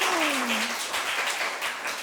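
A church congregation applauds together during a Sunday morning worship service, a full, even wash of clapping, with a brief gliding vocal sound at the very start.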